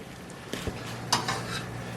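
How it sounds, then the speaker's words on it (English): Utensil clinks and scraping as breakfast-sandwich ingredients are mixed up in a bowl, a few sharp knocks over a steady background hum with faint sizzling nearby. "I'm going to mix this all up"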